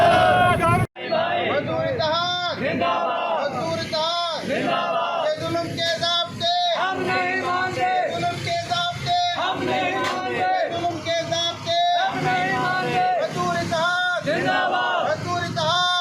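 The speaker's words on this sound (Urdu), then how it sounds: "ملازمین نے زبردست احتجاج کیا، نعرے بازی بھی کی۔" Protesting union employees chant slogans outside a press club in Pakistan, a loud group of voices shouting in rhythmic, repeated bursts that continue steadily throughout.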